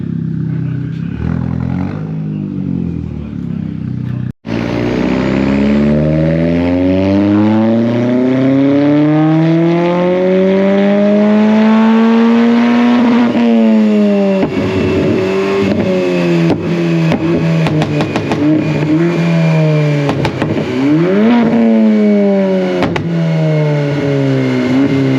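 A high-boost car revving hard on a dyno at a high-octane dyno day, very loud engine that climbs through a long rising sweep, holds near the top, then falls and spikes again with crackles and pops.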